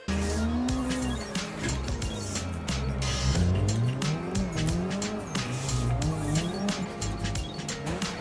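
Racing car lapping in a video game played on a Thrustmaster T818 wheel, its engine revving up and down through gears with squealing tires on corners, loud and continuous.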